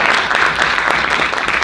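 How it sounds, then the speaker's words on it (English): Audience at a theatre night of monologues applauding the cast, a dense, loud, continuous wash of clapping throughout. "So a round of applause to all of our cast"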